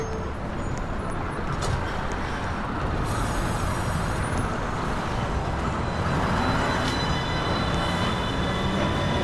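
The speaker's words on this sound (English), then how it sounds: "This is a Manhattan-bound 1 train" A Manhattan-bound 1 subway train at the 207th Street station, a loud continuous rumble and rattle of cars with faint squeals and hiss over the noise, steady for the whole stretch.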